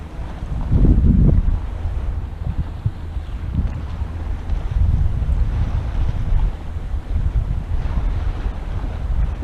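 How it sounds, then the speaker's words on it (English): Choppy water slaps around a kayak near a dam, irregular splashes and sloshing up close with heavy wind rumble on the microphone and a louder burst early on. "I don't know why it's so choppy."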